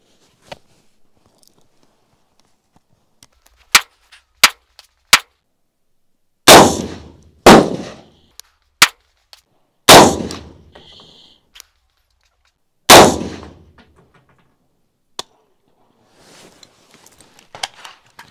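Sharp gunshots from a CQ-A 5.56 M4-style rifle at an outdoor shooting range, several loud cracks with short tails spaced a few seconds apart, plus smaller metallic clicks and handling clatter between shots.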